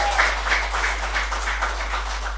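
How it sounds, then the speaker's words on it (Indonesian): A church congregation applauds during an Indonesian sermon, a steady moderate patter of many hands clapping together over a constant low hum, without any clear talk. "Boleh tepuk tangan, boleh."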